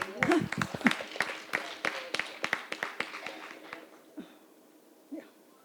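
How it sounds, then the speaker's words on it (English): Scattered hand claps from a small group at an International Women's Entrepreneurship celebration fade out over a few seconds, thinning to a couple of isolated claps at the end. "I think we have to clap ourselves for this."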